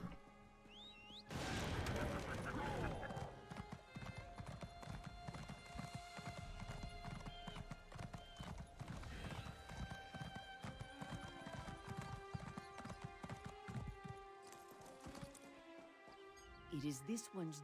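A horse gallops in Elder Scrolls Online with a rapid, loud clip-clop of hooves and a whinny near the start, over a layer of game music, while someone talks.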